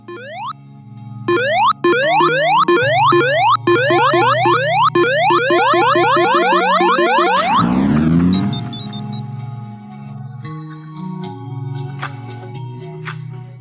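A rapid run of bright, springy jump-like bleeps and chimes from a retro Sonic platform game, loud and repeated, ending in a swirling sweep and twinkling tones of a Super Sonic transformation.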